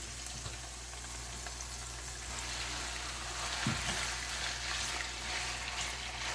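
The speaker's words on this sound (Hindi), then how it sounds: "और अदरक फ्राई हो गया है, इसमें अब जाएगा चिकन।" Steady, dense sizzling of chicken frying in a hot pan with garlic and ginger, with a soft stirring scrape midway and no voices.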